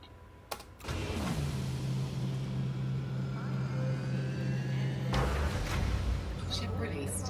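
Spaceship engines in the game Elite Dangerous spool up after a click, settling into a steady mechanical hum that holds for several seconds, then shifts in tone near the end, under a faint voice.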